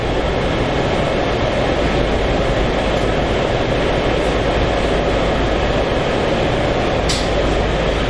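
Washington DC Metro train riding toward Herndon station, a loud, steady rumbling roar of wheels and motors inside the car with no talking.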